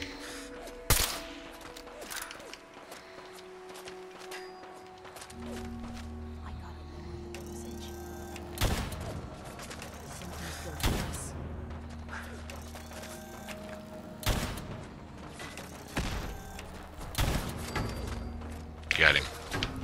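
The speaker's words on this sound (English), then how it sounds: "Who the hell is shooting at me?" Gunfire in Fallout 4 cracks sporadically at moderate distance, sharp single shots scattered among a low game hum, with occasional rapid clusters and a person talking over parts of it.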